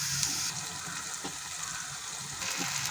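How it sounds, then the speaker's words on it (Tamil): Cauliflower fries with golden-brown onions in a pan, giving a steady, even sizzle with faint stirring scrapes and no voices. "இப்போ அந்த காலிஃப்ளவர் போட்டு அதில் நல்லா கிளையிட வேண்டியது தான்"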